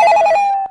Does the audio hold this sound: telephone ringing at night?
yes